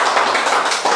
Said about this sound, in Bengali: সবাই একটা হাততালি